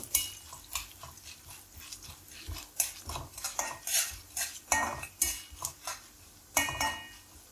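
Cumin, fenugreek seeds and lentils dry-roast in a pan for onion chutney, heard mostly as a quick run of metallic scrapes and clinks from a spoon stirring against the pan, with a faint sizzle underneath.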